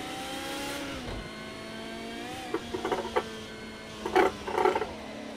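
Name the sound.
race car engine in video game Project Cars 2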